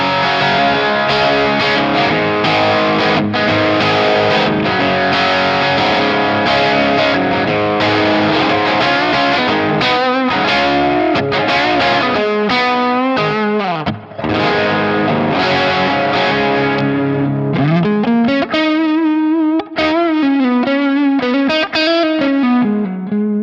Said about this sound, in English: So the first one is a Vox AC30 style tone, except I have it going to, again, a Marshall, kind of like a more neutral sort of speaker